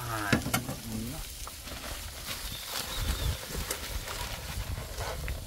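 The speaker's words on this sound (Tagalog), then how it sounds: "Ito lang igisa ko dito." Ingredients sauté in a hot pan, a continuous sizzle with spoon-stirring clatters and scrapes, close up, with no speech.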